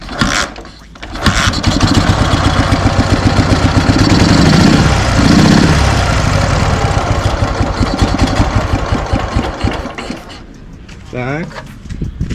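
A Dnepr MT11 motorcycle engine with PZ30 carburetors runs loudly nearby, idling with a rough, revving pulse that rises and settles while the idle is adjusted; someone talks over it.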